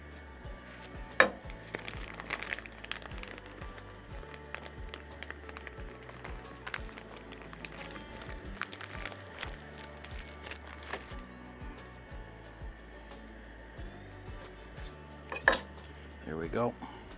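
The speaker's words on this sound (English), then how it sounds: "I'll take a few strips of bacon. We're going to cut it in half." A knife cutting bacon strips in half on a board at an outdoor open-flame cooking setup, with scattered taps and clinks of the blade, mostly quiet, and a couple of sharper knocks near the start and end.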